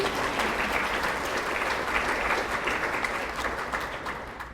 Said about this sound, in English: I'm not used to people clapping when I say things